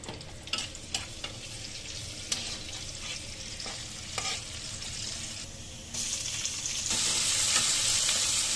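Leafy greens (shak) frying and being stirred in a hot pan, a steady sizzle broken by scraping stirs, with the hiss growing louder and brighter toward the end; no talking.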